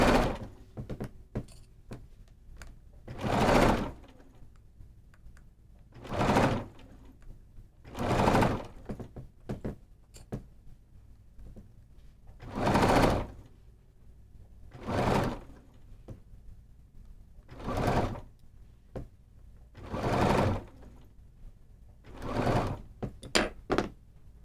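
Sewing machine stitching fabric, running in eight or nine short bursts of a few seconds each with quiet gaps between, fairly close and moderately loud with no voices.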